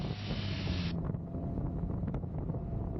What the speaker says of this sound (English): it's really windy out here today